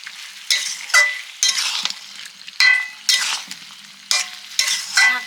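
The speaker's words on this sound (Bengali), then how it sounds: "কুমড়ো আলুটা কষে নিচ্ছি মশলার সঙ্গে" Pumpkin and potato pieces being stir-fried with spices in a pan for a sweet pumpkin chhokka, with repeated bursts of scraping and stirring over a steady sizzle, close and fairly loud, no talk.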